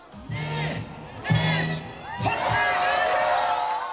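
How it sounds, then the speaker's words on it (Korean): A crowd of thousands cheers at New Year fireworks over Victoria Harbour in Hong Kong, with loud whoops and shouts rising over a dense, steady roar of voices. "홍콩 빅토리아 항구에 모인 수천 명의 인파가 새로운 시작을 환호했습니다"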